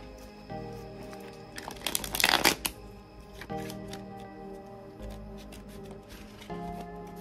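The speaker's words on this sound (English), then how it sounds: "So I'm going to start by doing a deck cleanse, and to do that I'm just going to shuffle the deck." A tarot card deck being shuffled by hand gives soft riffling and crinkling bursts, with one louder flurry in the middle amid quieter taps and rustles, close and fairly faint.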